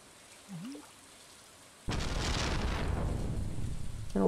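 Rain in the Stardew Valley video game starts abruptly after a short rising tone, becoming a dense, steady hiss that continues to the end.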